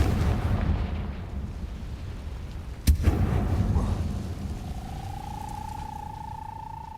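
Confringo fire spell cast in the game Hogwarts Legacy, a single sharp explosive burst near the middle over a low rumbling ambience, followed by a sustained high tone as the sound settles.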